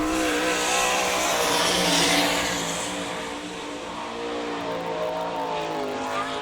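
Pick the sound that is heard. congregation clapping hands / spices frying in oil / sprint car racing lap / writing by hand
sprint car racing lap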